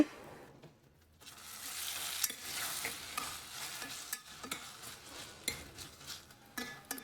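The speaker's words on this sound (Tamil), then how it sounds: "இப்போ கரண்டியுடைய பின்பகுதியை வச்சு அந்த தக்காளி எல்லாத்தையுமே வந்து நல்லா மசிச்சு விட்டுருங்க" Tomatoes being mashed with the back of a ladle in a pan of sizzling Madurai-style turkey masala, with steady scraping and stirring over a frying hiss, a brief quiet start then continuous close scraping strokes.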